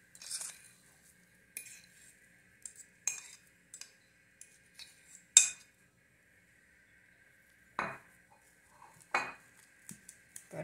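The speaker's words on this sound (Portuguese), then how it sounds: "Agora eu vou misturar aqui bem." A spoon scraping and clinking against a bowl while mixing a batter of mashed cassava, brief sharp knocks spread out with quiet gaps between them.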